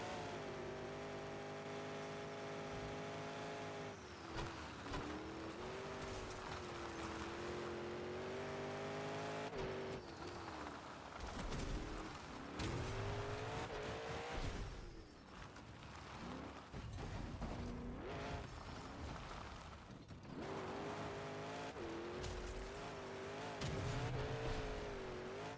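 A monster truck engine in the Monster Jam Showdown racing video game revs and roars continuously, climbing and dropping in pitch through gear changes, loud and close with no talk.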